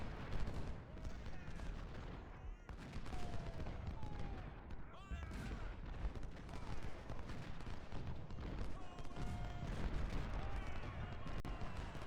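Artillery firing round shot in the Civil War game UG:CW Rebalanced at Thoroughfare Gap: faint, distant booms and crackling volleys blend into a steady battle din.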